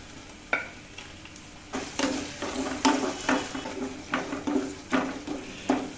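Curry leaves and green chilies fry in a pan with ginger, a loud crackling sizzle under repeated rhythmic stirring scrapes, heard up close with no talking.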